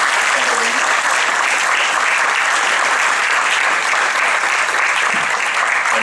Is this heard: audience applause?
yes